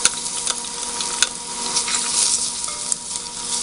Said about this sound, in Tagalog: Gigisa na natin ang bawang sa mantika.